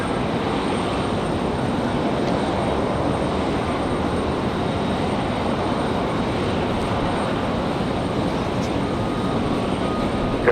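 An airplane at Raleigh Durham International Airport produces a steady, broad engine roar that holds evenly throughout, loud and continuous with no talking over it.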